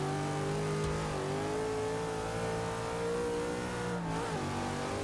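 A race car engine in the video game Forza, racing behind a Ford GT, a steady close engine drone with tonal revving that climbs and shifts pitch, continuous and fairly loud with no talking.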